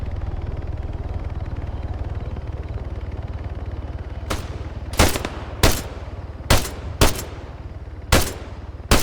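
Enemy machine gun fire in Arma 3 rings out in a series of sharp, loud bursts at irregular intervals over a steady low rumble of ambient battlefield noise.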